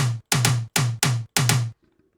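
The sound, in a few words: aggressive tom drum sample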